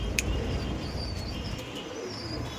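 Soft pigeon coos murmur at close range at a pigeon market in Madhyamgram, over a quiet background, with a faint chirp near the start.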